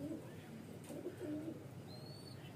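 Soft, low cooing from highflyer pigeons, a female kept for breeding pairs, rising and falling in a few gentle phrases over a steady background hiss, with a faint bird chirp near the end.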